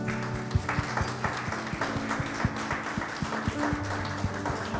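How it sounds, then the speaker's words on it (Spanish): Applause for graduating students at a Sunday church gathering, scattered hand claps sounding over a steady low instrumental hum in a large room, moderately loud and continuous. "Vamos a darles un aplauso."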